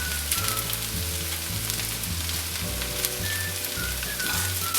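Indian-style chicken noodles with masala and pepper powder being tossed and mixed in a hot pan, a steady close sizzle with a rhythmic repeating stirring scrape throughout.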